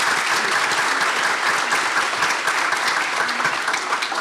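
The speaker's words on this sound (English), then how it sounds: "I think we need to give a good round of applause for our winners." Dense, steady applause from an appreciation dinner audience honoring award winners, a continuous loud wash of many hands clapping with no voices over it.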